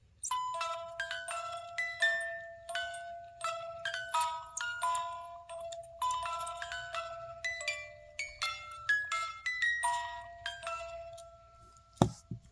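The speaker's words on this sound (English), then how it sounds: "I get them to wind the music box" A wind-up music box plinks out the Harry Potter theme in clear, bright metallic notes, a steady delicate melody with a sharp click near the end.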